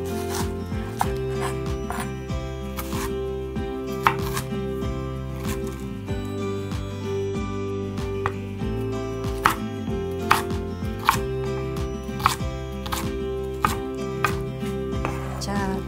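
A kitchen knife chops napa cabbage into bite-sized pieces for water kimchi, with crisp, evenly spaced knocks on a cutting board over soft background music.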